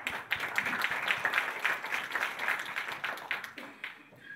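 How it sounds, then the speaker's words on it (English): At a technology conference session, an audience applauds a speaker with a dense, steady round of clapping that rises quickly and fades out after about four seconds. "please give a big hand to Sharil Schwab, the technology head of APAC Airbus,"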